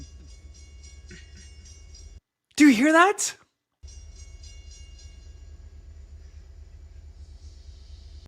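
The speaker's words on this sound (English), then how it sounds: "Bro, I'm still hearing this train." A far-off train rumbles as a low, continuous drone heard from indoors with the windows shut. It fades out for a moment while someone speaks briefly, then the same steady rumble returns.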